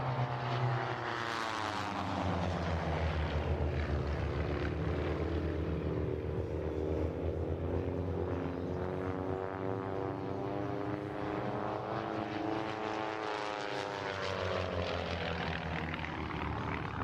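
A propeller aircraft performs at an air show with Redline Air Shows, its engine droning loud and steady for the whole stretch, the pitch sweeping down and back up as it passes.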